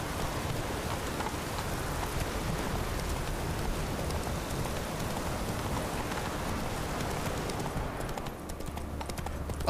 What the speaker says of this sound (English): It is rainy today, boys.